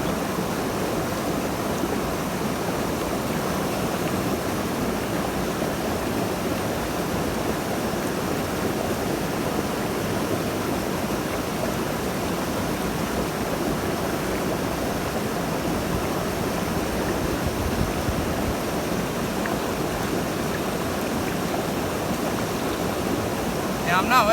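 A gold pan swirls and washes clay and gravel in water, giving a steady, close watery sloshing and rushing that runs unbroken throughout.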